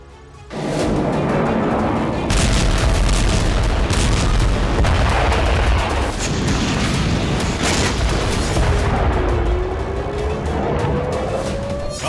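Explosions and gunfire from bombardment in Gaza, a loud dense barrage of booming blasts and crackling shots that rumbles on almost without a break for about eleven seconds.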